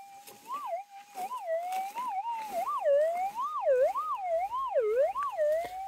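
A metal detector's warbling, chirpy tone sweeps up and down over a deep forged square nail on private property. The tone is fairly loud and wavers continuously for several seconds with no talk.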